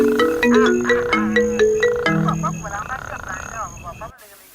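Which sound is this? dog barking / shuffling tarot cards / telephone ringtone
telephone ringtone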